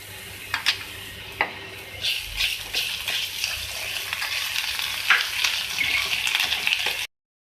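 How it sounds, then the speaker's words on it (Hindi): Close, busy sizzling of ginger garlic paste frying with onions in oil, with a few clinks and scrapes of a spoon stirring the pan. "प्याज के बाद अदरक लहसुन डालने के बाद इसको फ्राई करें"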